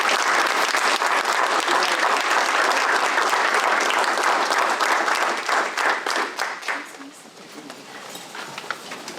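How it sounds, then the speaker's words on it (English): A city council chamber audience applauds a group of honored gentlemen, dense loud clapping that holds steady for about six seconds before thinning out into scattered claps. "I want a round of applause for these gentlemen"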